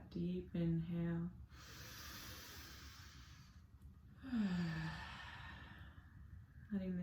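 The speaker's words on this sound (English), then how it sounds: "Taking a deep inhale through the nose, letting it out through the mouth." Slow, deep breaths drawn in through the nose and released through the mouth during a restorative yoga practice, two long airy breaths, close and soft, between stretches of a calm guiding voice.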